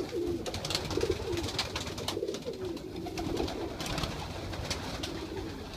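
Pigeons coo repeatedly in soft, rolling phrases over a steady background hum, the calls close by and continuing throughout.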